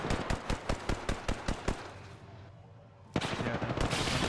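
Rapid bursts of automatic gunfire from an Apex Legends battle in the final ring. The sharp, evenly spaced shots come close and loud, pause briefly, then resume in a dense volley.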